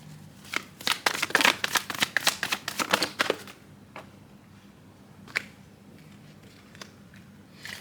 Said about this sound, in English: I'm just kind of throwing the cards anyways.